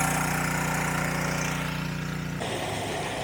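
A gas engine water pump runs steadily at close range while pumping out a flooded pond, holding a constant idle drone with knocking pulses before its tone shifts and roughens near the end.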